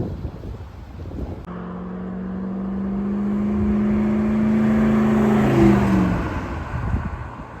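A 1959 Ford F-100 pickup drives on a test run, its engine humming steadily and rising in pitch as it accelerates, with wind noise buffeting the microphone and no talk.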